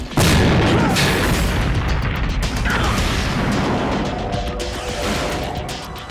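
A loud grenade launcher blast in Metal Gear Solid 2 on PS2 erupts at once into a heavy boom with crashing debris, rumbling on and fading slowly over several seconds.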